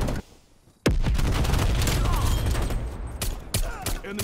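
Bursts of gunfire from Call of Duty: Black Ops Cold War on the Nuketown map, a loud sharp shot opening a dense stretch of rapid firing and booms, with more cracking shots near the end.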